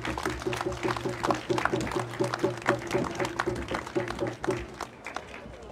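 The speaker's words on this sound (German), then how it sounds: "Einmal einen großen Applaus für euch." Crowd at an open-air demonstration on the Königsplatz in Kassel claps steadily with rhythmic hand claps, moderately distant, with a voice speaking over it.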